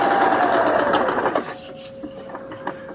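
A home sewing machine stitching two fabric pieces together, a steady close mechanical whirr that runs loudly for about a second and a half before easing off to a quieter hum with a few light clicks.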